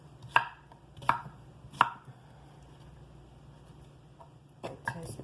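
A knife chops food into bite-sized pieces for homemade chicken soup, with three sharp, close board strikes at a steady pace, a pause, then two more quick cuts, and no talking.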